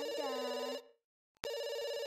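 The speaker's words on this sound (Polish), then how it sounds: "odbierz ten telefon" A telephone in The Sims 2 video game rings loudly with a steady electronic trill, breaks off into a moment of silence, then starts ringing again.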